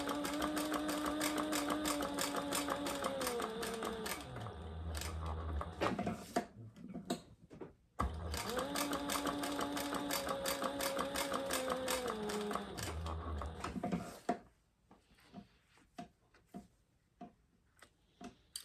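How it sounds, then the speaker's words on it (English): A sewing machine stitches around the plastic window of a handmade wallet, running in two long rapid mechanical bursts with a pitch that shifts as it slows, separated by a short pause, then fading to scattered ticks and clicks. "now we're just gonna stitch around that plastic window"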